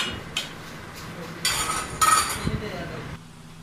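Dal being stirred in a cooking pot, with metal spoon clinks and scrapes against the pot in a few short bursts over a low simmer, a voice speaking briefly.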